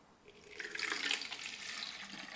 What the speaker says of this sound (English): fill in the bowl with water and soap